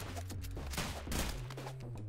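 A gunshot in the physics game Rounds, a dense crackle of shots layered over steady background music and game effects, fairly loud and continuous.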